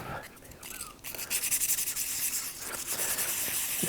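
Sandpaper scuffs a scope mounting base in short, close, raspy strokes, a rhythmic rubbing that repeats over a few seconds with a faint background hiss.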